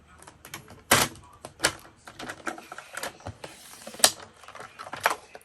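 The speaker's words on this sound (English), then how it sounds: "I'm just gonna trim it. Just trim it up a little bit here." Trimming paper for a travelers notebook-style journal made from 12 x 12 paper, a series of sharp close cutting snips and clicks at an irregular pace, with quiet rustling between them.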